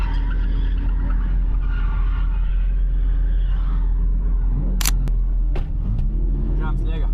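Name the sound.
car drifting with tyres skidding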